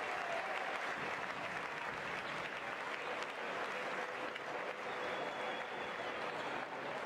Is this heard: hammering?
no